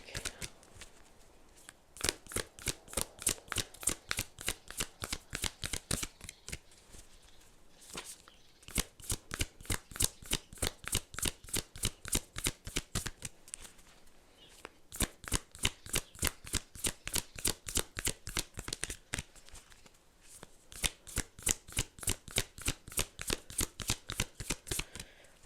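A tarot deck is riffled and shuffled in long, fast rhythmic bursts of crisp card flicks, close and alone, with short pauses between runs.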